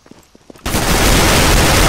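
Gunfire in CS:GO, a few faint clicks and taps first, then a sudden loud, dense burst of rapid shots that continues without pause to the end.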